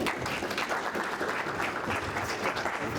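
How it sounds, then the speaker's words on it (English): Audience applause for a fire service researcher, a steady, even wash of many hands clapping at a moderate level throughout, with no talk over it. "Please give another round of applause for Dr."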